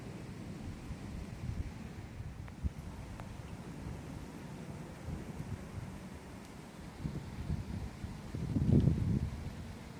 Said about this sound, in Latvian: vējš un lietus.